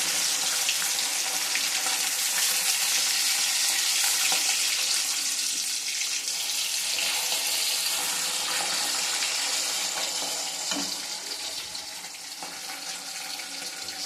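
Fish frying in a pan, a loud, dense and steady hiss of hot oil that holds for the whole stretch and eases slightly near the end, no voices.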